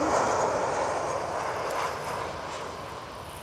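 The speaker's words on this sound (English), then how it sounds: "Quite a bumpy landing, this one." An airliner lands at Lisbon airport with a broad roar of jet noise that fades slowly as it passes, heard from a distance and with no voices.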